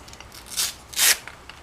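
Two short, close strokes of 3000 grit sandpaper rasp across a wet car headlight lens, the second longer and louder, with no talking.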